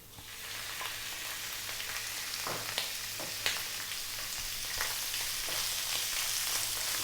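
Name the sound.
sautéing chicken hearts in a pan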